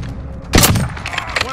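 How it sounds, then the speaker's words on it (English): A stun grenade detonates in Call of Duty: Modern Warfare, a single loud sharp burst partway through that settles into a ringing, crackling tail over low background rumble. "Stun bomb out."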